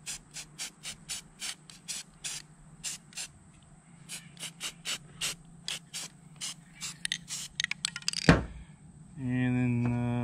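A series of short, hissing spray-paint bursts onto a tabletop miniature habitat base in an irregular rhythm, close by, followed by a brief rattle and a low hum at the end.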